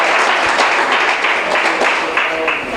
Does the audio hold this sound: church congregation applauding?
yes